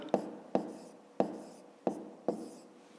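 Five separate scratchy pen strokes scrape across paper as numbers are written by hand, each stroke a short, sharp rasp at an uneven pace, close and quiet with no talking.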